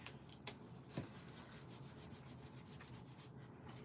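A folded paper napkin card is rubbed firmly to set the crease, producing a soft, steady scraping rub with a couple of small taps near the start.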